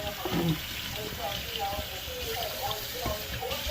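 Tap water runs steadily as pork chops are rinsed under a kitchen faucet before frying, a soft continuous splashing gush with a voice speaking briefly near the start.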